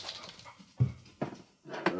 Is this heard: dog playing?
yes